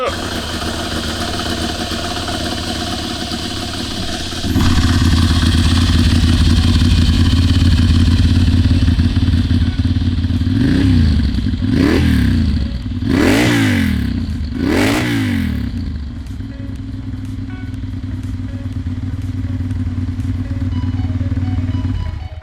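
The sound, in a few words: Italian motorcycle engine starting and revving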